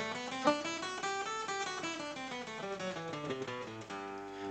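A musical scale played on an instrument and sent through Zoom on Windows 11 with Original Sound switched off, the notes stepping steadily up and then back down, evenly spaced and somewhat processed, with no voice over it.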